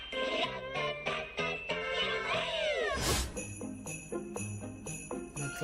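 Cartoonish cat meows sound in a fast-paced video game where little kitties with targets on their faces are collected, looping over bright jingly game music with a swooshing effect midway.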